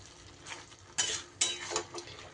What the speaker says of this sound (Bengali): একটু নাড়িয়ে চাড়িয়ে দেব।